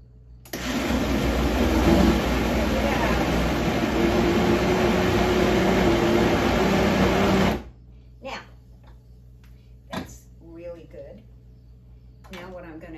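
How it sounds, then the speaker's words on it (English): A Vitamix blender runs at full power, a loud steady motor whir with a grinding edge that kicks on suddenly and stops after about seven seconds, followed by faint handling sounds. "You can do all kinds of stuff in this Vitamix. So what I do is I'm just gonna get this started."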